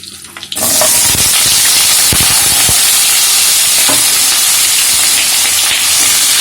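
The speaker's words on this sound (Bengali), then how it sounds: "আলুটা লাল লাল করে ভেজে নেব।" Washed, cut potatoes dropping into hot oil with black cumin and slit green chillies, bursting into a loud, dense, continuous sizzle with occasional crackles and stirring clinks, close up.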